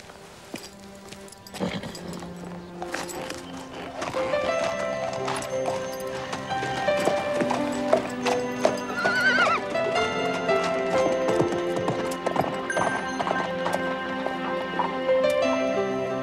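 A horse neighs and its hooves clip-clop close by, with steady hoof beats building and repeating under loud, shrill whinnies and a busy layered background.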